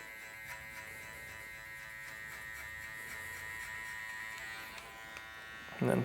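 Electric hair clipper buzzing steadily and close while fading a burst fade mullet haircut, a continuous whining hum with slight shifts as the blade angle changes, ending in a brief louder rustle.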